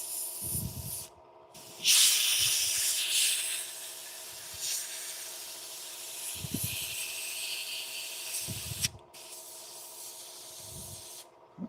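Spray gun laying finish onto wood in a woodworking shop, a broad steady hiss that starts and stops in short passes, with brief low thumps and handling noises between bursts.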